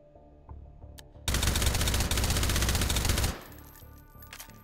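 Rapid automatic gunfire with incendiary rounds in the VR shooter Hot Dogs, Horseshoes & Hand Grenades, a loud dense burst lasting about two seconds between quieter clicks and handling noises.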